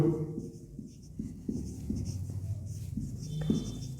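A pen scratches across paper in short strokes and taps while a Class 12 physics numerical on electric field and charge is worked out, close and fairly loud, with a voice speaking over it.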